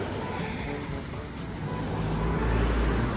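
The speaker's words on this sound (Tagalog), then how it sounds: "nandyan ang bus guys." Bus pulling up at a stop on a cold evening, a low steady engine rumble that grows slightly louder and nearer toward the end, with faint street noise around it.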